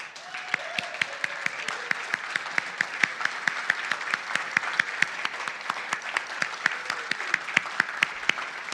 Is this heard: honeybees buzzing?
no